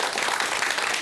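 A Buddhist monk's talk-show audience claps again, a brief, dense and even burst of applause filling the whole moment with no voices over it.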